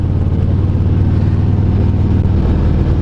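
A loud, steady Harley-Davidson 2018 Road Glide or Street Glide engine rumble drones continuously with wind noise, like riding along at a constant pace.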